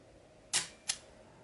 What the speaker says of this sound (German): Und ich kann dann hier oben die Kamera auslösen.